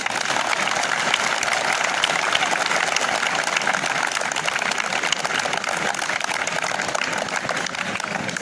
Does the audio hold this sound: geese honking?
no